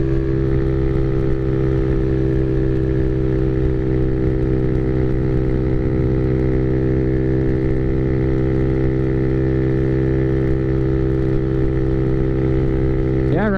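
A Honda Navi motorcycle engine drones steadily at close range while riding along a 55 mph road, a continuous buzzing hum with wind rumble, and a voice talking over it.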